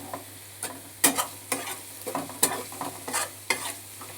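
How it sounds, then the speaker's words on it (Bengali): Crushed garlic frying with onions in a pan, stirred repeatedly with a spatula, giving sharp scraping strokes in an uneven rhythm over a continuous close sizzle, no voices. "থেতো করা রসুন একটু ভেজে নিচ্ছি পেঁয়াজের সঙ্গে"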